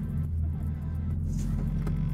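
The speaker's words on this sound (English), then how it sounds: "Sounds like a vintage car." BMW E30 with an S52 engine rumbling low and steady while driving, heard from inside the car as a constant deep drone with faint road noise.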